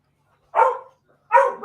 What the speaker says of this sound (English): My wife must be home as Marley is barking